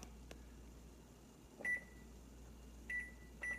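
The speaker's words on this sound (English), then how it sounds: "I set the timer" A digital kitchen timer beeps as it is set while brewing a yeast starter: three short, faint electronic beeps, spaced apart over a low steady hum, with no talking.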